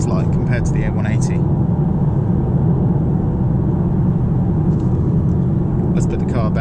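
A Mercedes A-Class is driven through turns, heard from inside the cabin as a steady close engine and road drone, with people talking over it.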